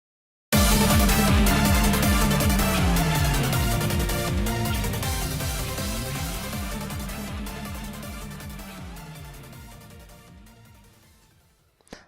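A Eurobeat synth hook with driving bass and dense full-mix production fades steadily from loud to faint over about eleven seconds, and a brief sharp burst of a car engine appears right at the end.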